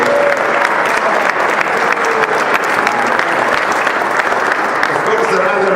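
An audience claps steadily at a cycling presentation at the Embassy of Italy in Washington, dense sustained applause filling the room for several seconds.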